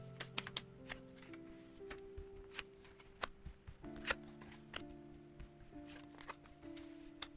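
Tarot cards shuffled and drawn up close, with quick papery riffles and soft snaps and slides of the deck, under faint steady background music with no talk.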